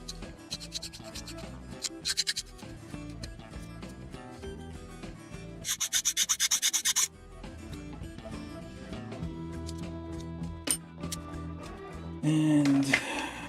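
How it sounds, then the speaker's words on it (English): A small plastic part from a 1/35 Kotobukiya Type 06-III tank model kit is filed gently, giving soft, close scratching strokes that come in quiet irregular patches, including a denser rasping run midway and a short burst near the end. "you can clear that up with some filing gently without applying pressure"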